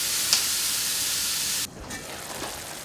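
Gnocchi frying in a hot pan on a stove, a steady close, bright sizzling hiss that drops suddenly partway through to a softer, quieter crackle.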